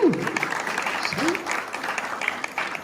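An audience at a church gathering breaks into steady clapping that continues for several seconds, a dense patter of hands under a voice.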